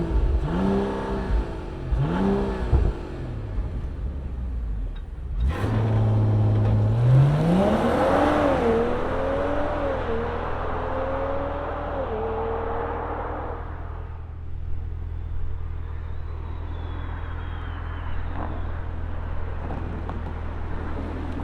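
A 2025 Mercedes-AMG CLE 53 engine starts with a loud bark and settles into a rumbling idle, then revs rise and the car accelerates away through several gear changes, fading into the distance.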